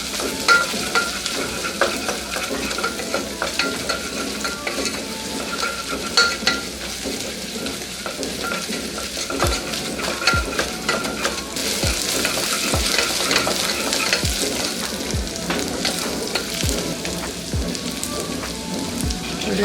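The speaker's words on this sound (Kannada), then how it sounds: "ಒಂದು ಅರ್ಧ ಸ್ಪೂನಷ್ಟು ಶುಂಠಿ ಪೇಸ್ಟು, ಇದನ್ನು ಕೂಡ ಎಣ್ಣೆಯಲ್ಲಿ ಫ್ರೈ ಮಾಡ್ಕೋಬೇಕು." Half a spoon of ginger paste frying in oil for a horse gram palya, a steady crackling sizzle with stirring scrapes and occasional sharp utensil taps, close and continuous without talk.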